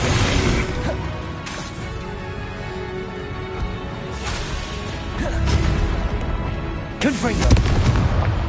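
Repeated Confringo fire-spell explosions from the video game Hogwarts Legacy. Heavy booms and crashing bursts roll on for several seconds amid dense battle noise, with sharper blasts near the start, middle and end.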